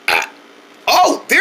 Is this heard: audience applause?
no